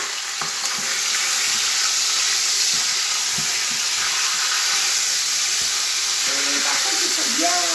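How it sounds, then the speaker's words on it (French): Chicken pieces frying in a pan for a rice and chicken dish, giving a loud, constant hiss close by, with a few faint thumps and clinks as the pieces are turned. "il faut bien le retourner, comme ça frit des deux côtés."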